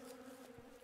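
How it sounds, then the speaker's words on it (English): Bees buzz faintly in the video game Above Snakes, a soft, steady drone with a low hum running through the whole brief moment. "Well, I hear bees."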